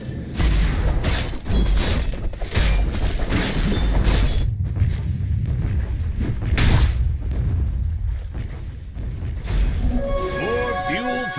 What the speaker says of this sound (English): Dire's bottom tower has shattered to little pieces.